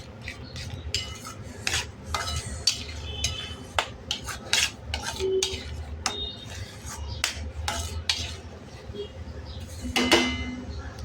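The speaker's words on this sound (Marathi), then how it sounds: "बघा एकत्र छान हलवून घ्यायचं आहे." Sheera prasad being stirred in a pan, a spoon scraping and clinking against metal in irregular strokes, close and moderately loud, with a light voice in the background at times.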